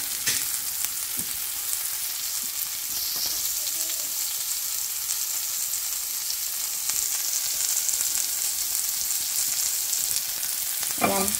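A beef burger patty topped with melting cheese sizzles on a griddle, a loud, steady hiss that runs the whole time, with a few faint scrapes and knocks.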